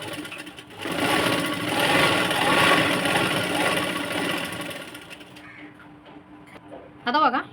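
Sewing machine stitching a sleeveless princess cut blouse, running in a fast, steady mechanical rattle for several seconds before stopping, followed by quieter handling sounds and a brief high-pitched sound at the end.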